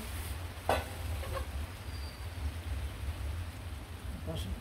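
Steady rain hisses outdoors, with a low rumbling hum beneath it and a few scattered clicks and taps.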